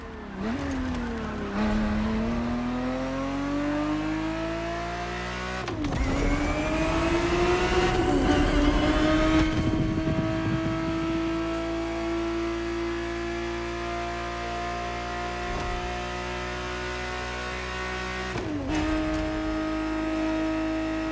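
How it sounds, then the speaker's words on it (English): Ferrari 365 GTB4 engine in The Crew Motorfest racing game, a 1970s-style car, rising and falling in pitch through gear shifts, sustained revving roar near and loud with brief surges between changes. "The Ferrari 365 GTB4 is the perfect vehicle for you to experience Ferrari racing as it felt back in the 70s"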